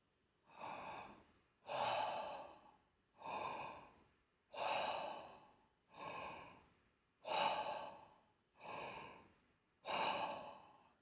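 Bellows breath, eight forceful deep inhales through a wide-open mouth at a steady rhythm, each a loud breathy rush with brief pauses between, close up and alone.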